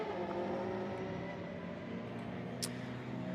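Ginetta GT race cars at Snetterton run at full engine drone as they cross the timing line, a loud, steady and slightly shifting roar with no breaks.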